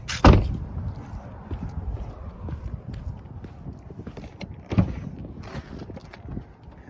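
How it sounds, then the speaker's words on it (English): Doors on a 2011 Cadillac CTS Performance Coupe release and open at the press of a push button, heard as two sharp clunks several seconds apart, with soft shuffling and handling noises between them and no speech. "you just push this little magical button and it opens the doors."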